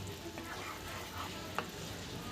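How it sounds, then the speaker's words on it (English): Quick stirring of a masala chips mixture with ginger, garlic, green chilies, onions, tomato paste and spices in a frying pan, a soft continuous sizzle with a few light scraping clicks, one sharper knock near the end. "I'm just going to give it a quick stir."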